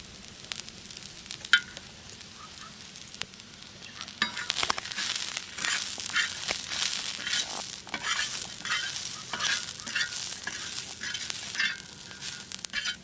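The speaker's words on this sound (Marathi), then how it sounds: "तेल टाकतो थोडस आता थंडा मसाला टाकतो" Oil and masala spices sizzle in a hot pan for a traditional Vidarbha rodga recipe, with steady frying hiss and repeated scraping stirs and occasional clinks, close and moderately loud throughout.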